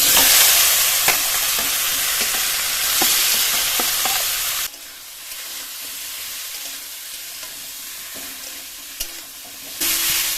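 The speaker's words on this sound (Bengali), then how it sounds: "এবার এর মধ্যে মিশিয়ে রাখা সবজি আর ডালটা দিয়ে দেবো।" Mixed vegetables and dal drop into hot oil spiced with cumin, bursting into a loud sizzle with stirring clatter, then the frying quiets to a softer hiss before flaring up again at the end.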